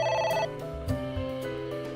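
A telephone rings in the video game AI The Somnium Files, its bright electronic ring tone repeating steadily over soft background music, with no one talking.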